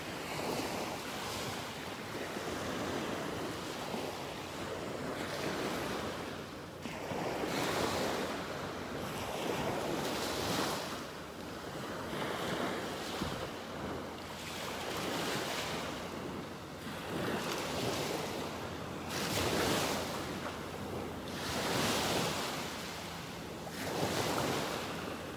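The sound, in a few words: ocean waves lapping on the shore at a beach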